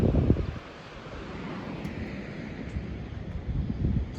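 Strong wind gusting hard outdoors, a continuous low roar buffeting the microphone with louder bursts at the start and end.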